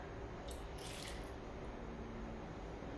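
Two-thirds of a cup of water is poured into lemon cake batter that already holds vegetable oil. It makes a steady, fairly quiet wet pour with a brief splashy burst near the start, and nothing else is heard.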